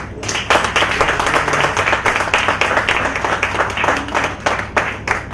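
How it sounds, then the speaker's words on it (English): A conference audience claps for the organizing staff, a dense, loud burst of many hands that holds steady with no talk over it. "You can clap here."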